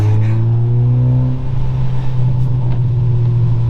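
A Honda Civic EG6 1.6 VTEC engine drones steadily with a throaty exhaust note, pitch rising gradually as it accelerates on a wet road; loud and close, no voices.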